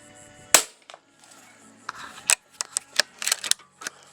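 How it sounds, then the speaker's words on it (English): A Hatsan BT65 .357 air rifle fires a shot at 135 bar, giving one sharp, loud crack followed by a string of quieter mechanical clicks and handling noises. "Shot number 11 will be at 135 bar"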